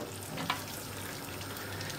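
Butter and vegetable oil heating in a pot on the stove for pilaf, giving a faint, steady sizzle with a small clink partway through.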